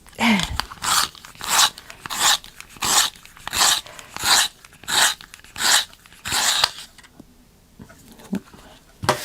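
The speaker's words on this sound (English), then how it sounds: "My sharpener shredding bits everywhere." A hand pencil sharpener grinds a pencil in about ten rhythmic rasping strokes, close and steady, before the scraping stops and a few small clicks follow.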